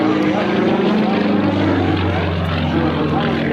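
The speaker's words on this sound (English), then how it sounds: "you are looking at the airplane actually falling backwards at full power" A propeller airplane roars at full power through a tumbling airshow maneuver, a loud, steady engine drone with a low propeller hum that stays even throughout.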